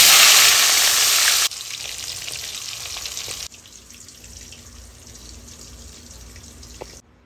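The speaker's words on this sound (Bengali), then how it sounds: "এবার নেক্সট ব্যাচের মাছগুলো দিয়ে দেব।" A batch of fish frying in hot oil for a Bengali koral fish curry, sizzling loudly and densely at first, then dropping in steps to a softer, steady hiss that fades near the end.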